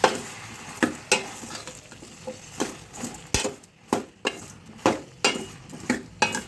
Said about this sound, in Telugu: ఇప్పుడు దీని మొత్తాన్ని మిక్స్ చేసేసుకోండి